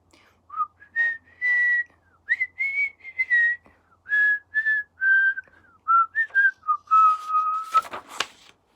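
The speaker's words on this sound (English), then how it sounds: "He whistled all the way there, and he whistled all the way home." A person whistles a short melodic tune in clear, separate phrases of rising and falling notes. It sounds close and clean against quiet, ending with a brief burst of noise.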